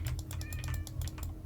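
A cat meows inside the Minecraft video game, a short high mewing cry heard once at moderate level over steady clicking keyboard typing and a low background hum.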